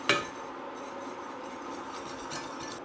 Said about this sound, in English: I'm just whisking the flour.